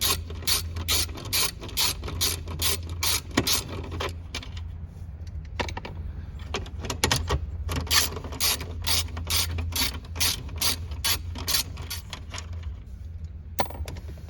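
Ratchet wrench backing out two 7 mm screws from a 2010-2012 Ford Fusion dash panel, rapid clicking pawl strokes in repeated bursts with short pauses between, close and fairly quiet.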